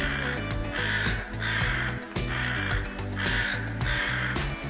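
A jungle crow caws loudly and close by, a run of harsh repeated calls in a regular rhythm, heard alone without talk.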